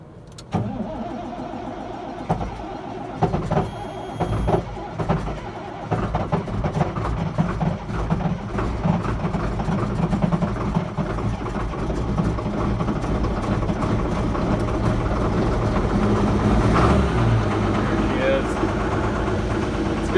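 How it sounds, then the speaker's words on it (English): Farm tractor at minus 27 Fahrenheit cranking with sputtering bursts, then catching and settling into a steady, rising diesel idle nearby, with a person talking over the engine. "that's our third tractor for the day started"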